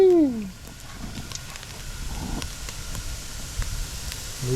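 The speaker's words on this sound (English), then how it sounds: "You hear it sizzling." Bluegill fish fry in hot oil with a soft, constant crackling sizzle at moderate distance, under a brief high whistling tone at the start.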